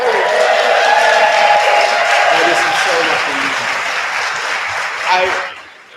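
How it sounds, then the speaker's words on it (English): Sustained audience applause at a rehearsal for a musician, loud and dense for about five seconds before tapering off, with voices faintly mixed into the clapping. "please give Terry a round of applause."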